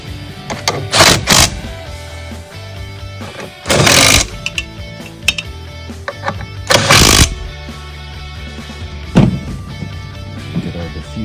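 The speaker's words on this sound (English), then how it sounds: "So I can get our 9/16 socket, tighten up all these bolts." Tightening the bolts on a Pentair Whisperflow pool pump with a 9/16 socket, heard as loud bursts of ratcheting and metallic clatter separated by quieter handling noises, close up with no talk.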